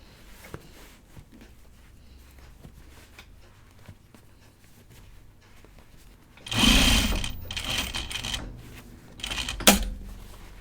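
A sewing machine stitches a seam on a bag in two loud bursts, the first about three seconds long and the second brief, with a quiet room before them.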